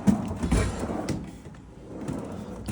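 Large storage drawers in a toy hauler slide open and shut, giving a few soft, muffled rumbles and knocks in an otherwise quiet interior.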